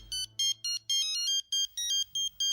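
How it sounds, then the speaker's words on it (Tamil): A phone ringtone rings close and clear, with a rapid series of bright, evenly spaced electronic tone bursts in a steady repeating pattern and no talking over it. "ஃபோன் அடிக்குது பார்"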